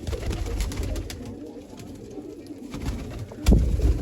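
Soft, low pigeon coos repeat nearby in a murmuring rhythm, with some rustling and a brief louder thump near the end.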